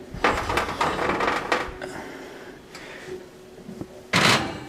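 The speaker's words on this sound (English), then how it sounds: "Now I'm going to pop this in the oven to bake it for 55 to 60 minutes." An oven door thuds open and shut as a Halloween-colored pound cake goes in to bake, with a few clanks and knocks of pans nearby and a final louder bang at the end.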